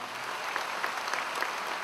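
A crowd of mourners claps at a funeral ceremony in Nice, a steady, fairly soft wash of applause heard from some distance without talk.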